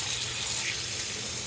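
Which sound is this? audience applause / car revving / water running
water running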